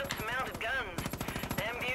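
Rapid gunfire from an aircraft in the video game Far Cry 5, a quick regular rattle of shots running across the whole stretch with brief pauses, under a person talking.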